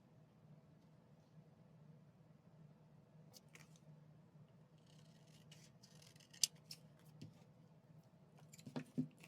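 Scissors cut paper in short, soft snips, faint against a low steady hum, with a few sharper clips toward the end.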